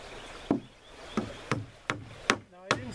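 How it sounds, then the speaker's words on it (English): A heavy framing hammer drives nails into deck boards on a tent platform, six sharp wooden strikes spaced about half a second apart, close and clear with no talk. "I'm using my pretty heavy framing hammer here."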